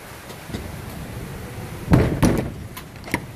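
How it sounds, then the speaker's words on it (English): Doors being shut at the end of a work day making kettle corn, giving a few dull thumps and knocks, the loudest pair close together near the middle, over a steady background hum. "We're going to be out closing the doors."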